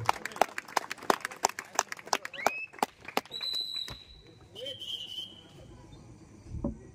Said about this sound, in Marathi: जोरदार मित्रांनो टाळ्या वाजवा